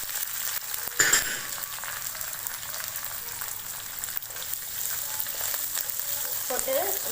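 Onion frying in oil with mustard seeds and chillies for a chilli chutney, a continuous close sizzle with spoon stirring, a brief louder crackle early on, no voices.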